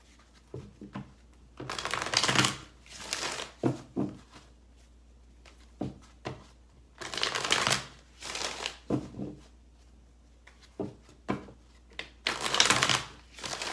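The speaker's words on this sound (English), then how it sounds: "Let me do one more shuffle." Tarot cards are shuffled in repeated bursts, a riffling flutter followed by soft taps and pauses, close by and without talk.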